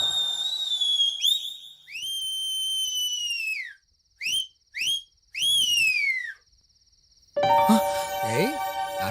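A person practices whistling, producing long sliding tones that rise and fall, then several short sharp blasts, ending in a noisy burst of other sounds.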